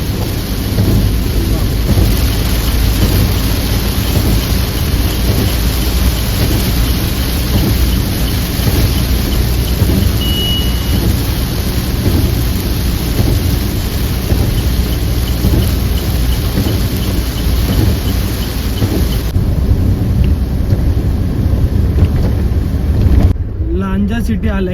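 Heavy rain roars steadily for the length of the drive along the Mumbai–Goa highway near Lanja, a dense, loud wash of noise that cuts off sharply at the end.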